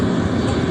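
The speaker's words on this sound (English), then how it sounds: "I'll let the plane go by here" An airplane passes close overhead near an airport, a steady low broadband engine roar that stays loud and constant throughout the short stretch with no talk over it.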